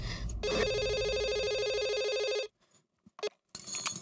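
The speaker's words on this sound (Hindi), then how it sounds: "मैं माधवी को फोन करके बोल देता हूँ।" A telephone rings in a loud, steady electronic tone for about two seconds, then stops, followed by brief faint handling sounds and a sudden burst of loud noise at the end.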